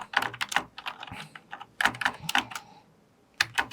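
Fingers type C program code on a computer keyboard, the close, crisp key clicks coming in quick irregular bursts with a short pause before a final flurry.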